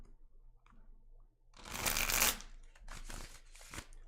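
Tarot cards being shuffled by hand, a soft riffling burst that swells and then breaks into a few shorter flutters and taps, close but fairly quiet.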